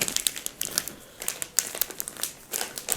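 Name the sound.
plastic bag of semolina crinkling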